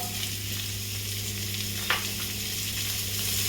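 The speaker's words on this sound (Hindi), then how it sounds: "इसमें मैं प्याज डाल रही हूँ।" Chopped onions sizzle and fry steadily in an oil-filled pan while making a fresh pea paratha, a continuous close crackle with a brief louder burst partway through.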